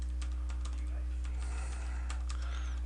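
Computer keyboard typing during a MicroStation drafting lesson, a run of quick, light keystrokes in uneven bursts, close and clear over a steady low hum, with no talking.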